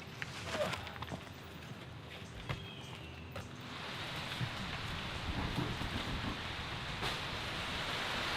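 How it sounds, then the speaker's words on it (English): Nighttime rain on a forest canopy makes a soft, diffuse hiss that thickens and grows louder partway through, with scattered drips and faint rustling steps in the foreground. "there's always a pretty big delay between when the rain starts and when it starts coming through the canopy"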